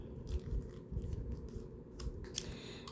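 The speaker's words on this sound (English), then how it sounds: "So I'm going to just cut a piece like this." Scissors cutting a piece of paper for an altered composition notebook, a few close crisp snipping and sliding strokes with soft rustle, no talk.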